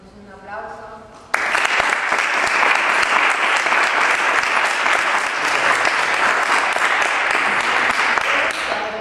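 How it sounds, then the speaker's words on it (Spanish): After a brief murmur of voices, an audience at a writers' talk at C.C. Islas Malvinas breaks into loud, sustained applause that holds steady for several seconds before tapering at the end. "Un aplauso."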